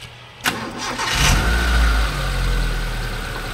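A Mitsubishi Lancer with a 4G92 engine, suffering black smoke and a heavy misfire, cranks briefly with a sharp click and catches. It swells into a loud start, then settles to a steady, fairly close idle.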